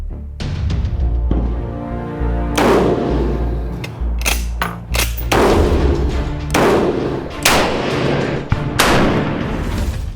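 A Southern Cross Small Arms Taipan Light rifle fired outdoors toward a 100-metre target: about eight sharp, loud reports at uneven intervals, each trailed by a brief booming echo.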